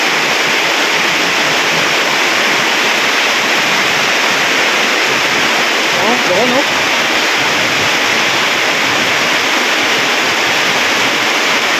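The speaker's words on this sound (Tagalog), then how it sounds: "Ito yun ang lakas ng ulan." Floodwater rushes across a farm field beside a hut and a canal after heavy rain, a loud, constant roaring wash with a brief human voice heard faintly partway through.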